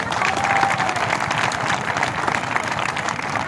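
Dense crowd applause welcomes a speaker at a Johar Chhattisgarh Party political gathering in Sammanpur, many hands clapping in a continuous, fairly loud wash with faint voices mixed in.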